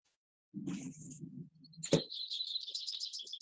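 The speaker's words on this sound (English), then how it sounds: "Can you hear the birds?" Birds sing outdoors near a house, with short bursts of chirping and trilling calls, clear and fairly close against otherwise quiet surroundings.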